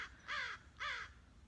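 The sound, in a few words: tiny bird making squeaky mechanical calls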